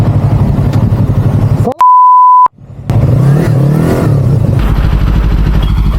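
A loud, steady car horn blares once for under a second in Turkish traffic, cutting through rumbling engine and traffic noise, with silence around it.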